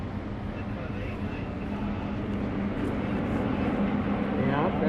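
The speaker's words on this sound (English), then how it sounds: "Can you hear the sound of the engine?" A T-28 warbird's piston engine drones steadily overhead at the EAA AirVenture airshow, a broad rumbling hum that slowly grows louder as the plane approaches, heard beneath an announcer speaking.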